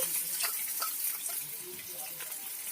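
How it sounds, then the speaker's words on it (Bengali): Chopped onion and capsicum sizzle in a hot pan, a steady hissing crackle at close range, while cooking the base for a papaya and country chicken curry. "এটা ভাজা ভাজা হতে থাকবে।"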